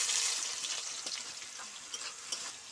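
Onions hit hot oil in a pan while mutton curry is being cooked, giving off a steady bright sizzle with soft crackles and faint stirring, fairly close and with no talk.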